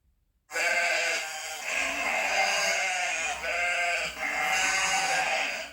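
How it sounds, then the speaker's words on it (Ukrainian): Sheep bleating loudly and close by, a few long wavering bleats following one another with barely a pause. "Так, вівця і баран говорить бе."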